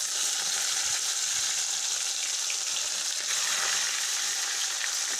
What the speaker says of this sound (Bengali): তো এখন মাছগুলো ভাজবো।